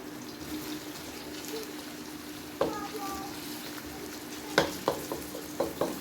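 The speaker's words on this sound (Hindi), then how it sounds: "जैसे ही ऑयल गर्म हो गया तो फिर मैंने इसके अंदर शामिल कर दिए हैं ये प्याज" Chopped onions sizzle in hot oil in a pan over high flame, a steady soft frying hiss with a few sharp clinks of a utensil against the pan near the end.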